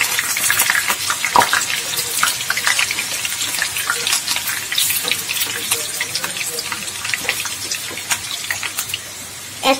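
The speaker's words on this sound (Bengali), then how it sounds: "আলু 4টে আমি ভেজে নেব ব্রাউন কালার করে।" Halved potatoes frying in mustard oil to a brown colour, giving a continuous close sizzle broken by irregular pops and spatters, with a few sharper knocks of a utensil in the pan.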